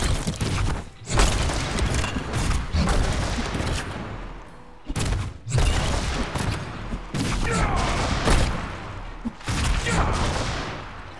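Crashing, clattering breakage in a dark fantasy action role-playing game as a character smashes objects in quick succession, loud dense bursts separated by brief pauses, with thuds and debris rattling.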